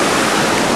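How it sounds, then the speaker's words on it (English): A creek on a steep hillside gives a continuous close rush of flowing water, loud and even throughout the brief moment, with no voices. "We just found the creek and water"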